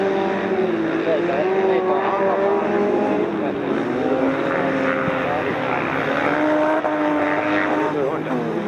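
Honda rally car racing past on a gravel stage, its engine a loud, sustained roar with shifting pitch, mixed with other engine noise and crowd voices close by.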